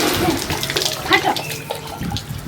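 Water is poured over a person bathing, splashing and gurgling continuously at close range, with a voice talking faintly underneath.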